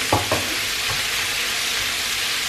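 Sausages fry in butter in a pan with a steady, dense sizzle throughout, and a couple of soft utensil knocks near the start.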